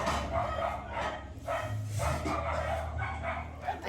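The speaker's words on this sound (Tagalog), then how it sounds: "gusto sumama ng mga aso ang ingay" Several dogs bark noisily and repeatedly at a home during a children's holiday toy unboxing, the overlapping barks loud and close throughout, with a few yips and whimpers mixed in.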